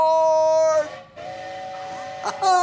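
Toy-style train sound effect for a children's Christmas story train: a loud, steady multi-tone whistle blast, a brief break, then a second sustained whistle with a short chuff near the end.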